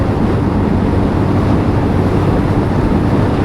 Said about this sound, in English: It's decidedly windy out there today and cold